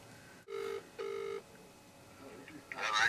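A telephone rings twice in short, even electronic bursts, followed by quieter background sounds and a brief rise of noise.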